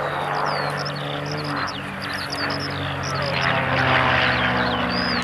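Aerobatic display aircraft fly past at a 1992 RAF Coningsby airshow, a steady loud engine drone with high bird chirps scattered over it, no talking.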